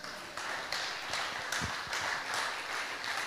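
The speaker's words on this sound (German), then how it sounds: "nochmal einen Applaus für Sophia" Audience applause for a participant at a live show, a few seconds of steady, moderately close clapping from a small crowd with pulsing swells.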